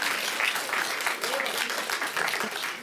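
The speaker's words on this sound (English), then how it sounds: "Can you just wait till we vote and then cheer?" Audience cheering and applauding at a city council meeting, a dense steady wash of clapping with raised voices mixed in, sustained at close range throughout.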